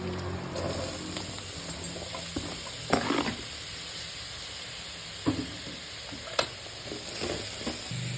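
Snake gourd pieces go into onions frying in a pan for a lentil and snake gourd kootu: a steady sizzle and hiss with a few sharp clatters of the spoon and pan.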